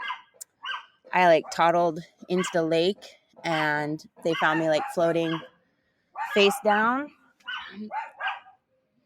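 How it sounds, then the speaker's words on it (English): Dogs bark at a neighbor's house somewhere in the background while a person talks steadily in the foreground, the barking mostly buried beneath the voice. "I'm sorry that these dogs are barking."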